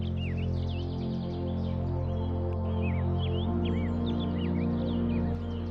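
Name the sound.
birds calling in the marsh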